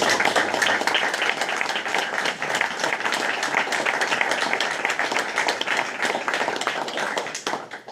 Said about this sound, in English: Let's have another round of applause for these musicians.